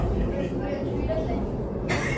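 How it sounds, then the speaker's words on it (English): Funicular railway in Luxembourg in motion, a steady low rumble and rattle of the car as it rides, moderately loud and continuous, with voices talking over it. "Riding the funicular"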